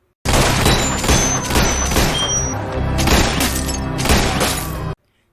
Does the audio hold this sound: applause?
no